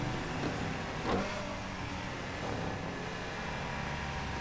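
Car engine sounds from the racing video game Need for Speed Heat, a steady broadband engine roar and road noise that holds throughout with slight swells, no voices.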